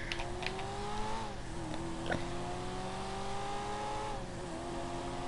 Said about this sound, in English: Oh, and I got the nice engine sound car.